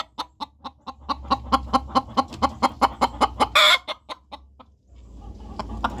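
Several chickens cluck in steady, repeated bursts close by, joined by a brief louder squawk, likely from a Wyandotte hen that has just laid a brown egg, with no talking over them.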